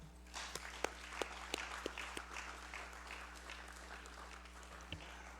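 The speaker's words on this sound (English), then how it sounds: "let's give them a round of applause" Legislators in a congressional session hall give a faint, roomy round of applause. Scattered sharp claps stand out over a low hum for about five seconds.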